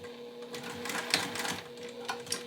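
Sewing machine basting a zipper in place, a quiet rapid mechanical stitching patter with short bursts and a faint steady hum, close and alone without talk.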